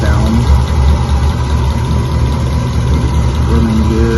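A 1941 Ford cabover truck engine idles a little high, a close, loud, steady low rumble that holds evenly throughout with a faint whine on top, as a voice speaks over it.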